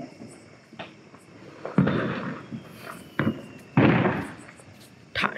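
Diwali firecrackers bursting outdoors: several sharp, loud bangs spaced irregularly over a few seconds, each followed by a brief crackling decay, with quieter pops between.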